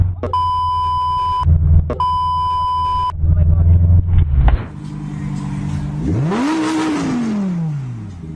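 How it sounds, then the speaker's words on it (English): A supercar engine revs up with a rising and falling roar after two long electronic beeps and a low rumbling idle, all quite loud and close. "When I hear those revs, I feel doom loading."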